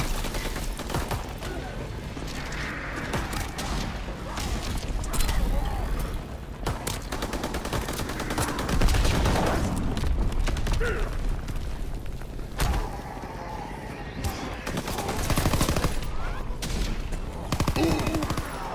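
Sustained gunfire aimed at a Zeppelin during a Call of Duty: WWII zombies match, continuous loud shots and booms layered with game chaos, with a player talking over it.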